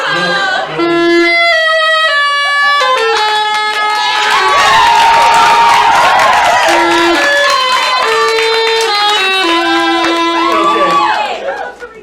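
Cheers and applause from the crowd at a Somerville Night Live comedy show, with shouts and clapping mixed under loud musical tones and voices throughout, swelling in the middle before cutting off.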